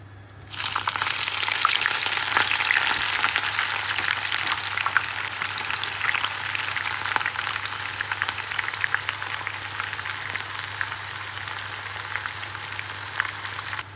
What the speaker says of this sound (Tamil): இப்போ இதுக்குள்ளே வெங்காயத்தை போட்டு அதையும் பொண்ணுரமாக பொறிச்செடுப்போம்